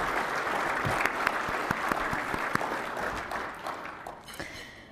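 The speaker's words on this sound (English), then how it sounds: "I want you to give yourselves a round of applause." Guests at a business partnership annual banquet applaud themselves; individual claps stand out sharply within a steady round that tapers off over the final seconds.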